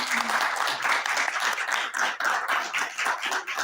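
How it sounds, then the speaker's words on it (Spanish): Sustained applause from a crowd, steady dense clapping that fills the whole stretch with no voices rising above it. "le damos un fuerte aplauso por parte de los participantes"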